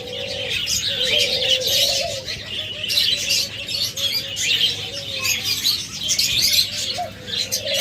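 A busy aviary of budgerigars, cockatiels and lovebirds kept for sale chirps and twitters without pause, a dense, bright chatter layered with softer low calls and the occasional flutter of wings.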